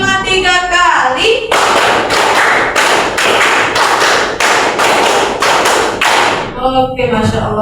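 A classroom of students claps in a clap pattern, a burst of dense group claps repeated in regular pulses for several seconds, loud and close, with a voice speaking briefly before and after.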